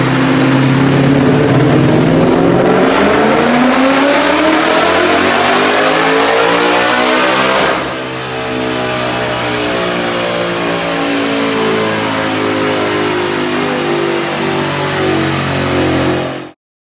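A supercharged Ford Coyote V8 in a Cobra, fitted with a 2.3 TVS blower, revs hard on a dyno: the engine climbs steadily in pitch for several seconds, drops briefly, then holds a loud, sustained high-rpm roar before cutting off.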